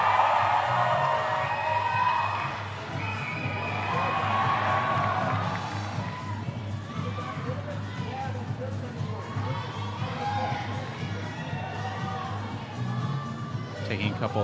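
At a national climbing championship's open final, a crowd cheers and shouts for a climber, loud at first and then easing into a murmur with scattered whoops, under a commentator's voice.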